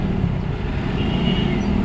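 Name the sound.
heavy road traffic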